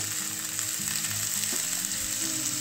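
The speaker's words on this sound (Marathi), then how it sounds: "हे पण आपल्याला आता छान असे परतवून घ्यायचे आहे" Cut spiny gourd pieces sauté in a hot pan, a dense continuous sizzle close up with low scraping and stirring sounds underneath, loud and steady throughout.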